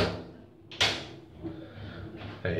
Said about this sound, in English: I'm gonna shut the door and lock it.